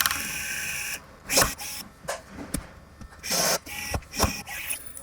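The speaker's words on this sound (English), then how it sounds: "go use our rivet tool to secure the sensor" A hand rivet tool sets 3/16 blind rivets to fix a wireless door sensor, giving a few close, sharp mechanical squeezes and snaps with rubbing and handling noise between them and no voice.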